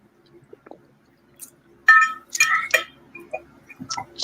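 Glasses clink in a celebratory toast during a casual livestream, with a few sharp glassy taps and clinks clustered in the middle of an otherwise quiet stretch, along with small handling noises.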